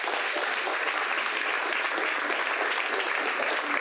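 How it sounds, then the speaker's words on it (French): An audience applauds during a talk show segment, with steady, even clapping throughout at moderate volume and no voices. "Applaudissements pour vous-même."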